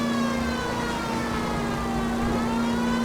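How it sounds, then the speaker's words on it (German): A police car siren wails steadily in the L.A. Noire video game, a loud sustained tone holding through the whole moment with traffic rumble beneath and no talking. "Mach ich mal kurz die Sirene an."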